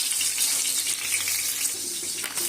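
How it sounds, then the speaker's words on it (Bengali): Fish sizzles steadily in hot oil, a continuous bright hiss that fills the short stretch without pause, close and moderately loud. "তেল গরম হয়ে গেছে, আমি মাছ দিয়ে নিব"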